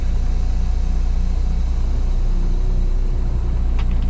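A 2023 Kenworth W900L rolling down the road on its newly fitted front air-ride suspension, giving a steady, loud low engine rumble and road drone throughout with no breaks.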